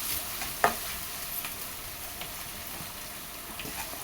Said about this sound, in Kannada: ಹಾಕ್ಕೊಂಡು ಹಸಿ ವಾಸನೆ ಹೋಗೋವರೆಗೂ ಹುರ್ಕೊಬೇಕು ಚೆನ್ನಾಗಿ.